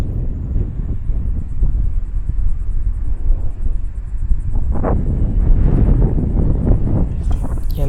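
Strong wind buffets a kayak out on the Mosquito Lagoon, a loud, continuous low rumble and roar of gusts against the microphone that holds for several seconds without any talking.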